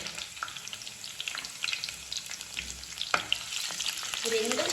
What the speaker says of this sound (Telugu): చక్కగా ఆయిల్లో రోస్ట్ చేసుకుందాం